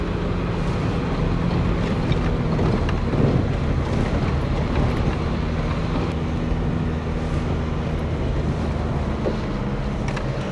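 A car engine labours steadily in first gear climbing the Saach Pass mountain road in India, a constant low drone mixed with wind rush across the mic, no voices.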